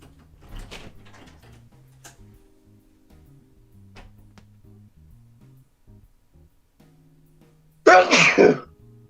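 One loud sneeze bursts out near the end, following quiet shuffling and faint background noise during a Dungeons and Dragons session.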